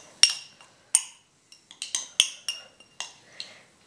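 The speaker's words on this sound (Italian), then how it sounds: "Ora ci vado ad aggiungere il fondo del caffè" Coffee grounds being added to coconut oil and stirred, giving a series of sharp metallic spoon clinks against a bowl in an irregular rhythm, close and fairly quiet with faint scraping between strikes.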